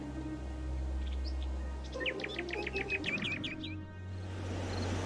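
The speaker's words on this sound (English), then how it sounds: "A tropical bird can only live in the Dendrarium's special microclimate." Tropical bird in the video game Mystery Trackers: The Void gives a quick series of bright, repeated chirping calls over a low steady ambient hum, fairly close and clear.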